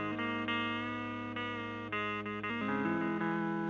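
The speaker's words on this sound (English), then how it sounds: "Now if I cut that reverb up, it sounds like kind of a subtle overdrive." Clean electric guitar chords ring out through a Fender Jazz King amp with the reverb turned up, sustained notes changing every second or so with a lush, slightly gritty wash.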